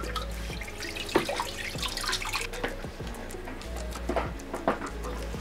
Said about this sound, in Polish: filterek ładnie popycha wodę po całym akwarium